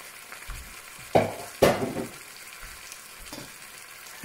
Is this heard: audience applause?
no